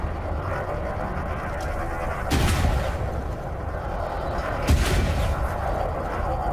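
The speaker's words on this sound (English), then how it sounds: "Oh, it's shooting at me." Gunfire aimed at the player in a video game: sustained rumbling combat noise with two heavier blasts bursting out, fairly loud and continuous, no voices.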